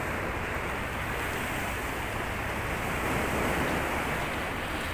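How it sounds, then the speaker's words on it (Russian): Sea waves wash onto the shore in Mersin, Turkey, a steady broad rushing surf with slight wind, continuous and moderately loud, with no voices. "Море, наше море."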